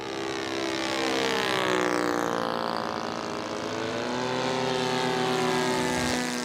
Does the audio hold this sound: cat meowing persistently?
no